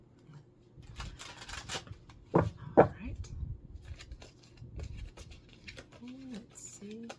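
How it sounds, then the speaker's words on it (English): Tarot cards are shuffled by hand in a quiet room in soft, riffling bursts, with a couple of sharper card snaps midway. Someone speaks briefly, and a faint chime rings toward the end. "I'm going to shuffle 2 more times is what I feel, and then start drawing."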